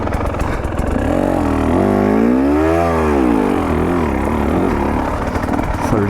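A vehicle engine revving up through the gears, with its pitch climbing and dropping again as it shifts, steady and close, with wind noise throughout.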